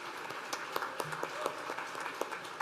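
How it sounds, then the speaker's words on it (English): Faint applause from an audience at an annual general meeting, scattered clapping with distinct individual claps standing out at a distance. "can we give our Finance Committee a big round of applause for all the work they've done?"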